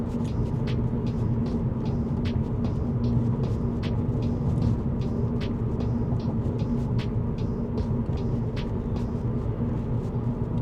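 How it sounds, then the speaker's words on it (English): Steady tyre and road roar inside the cabin of a 2011 Volkswagen Golf at roughly 50 to 60 km/h, a constant low rumble with faint periodic ticks from the tyres, continuous and even throughout. "Here you can really hear the tires inside the cabin."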